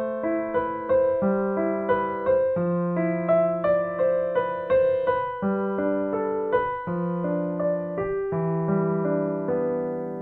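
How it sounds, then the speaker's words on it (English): Solo piano plays the first line of a nocturne in strict, even metronomic time, steady evenly spaced notes over held bass tones, close and clear with no voices. "Now, if I were to play that first line metronomically, it would sound like this."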